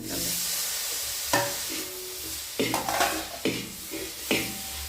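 Tomatoes being sautéed for chicken curry in a pan over a wood-fired stove, with a steady low sizzle broken by several sharp scraping stirs of a spoon against the pan, close and clear with no talking.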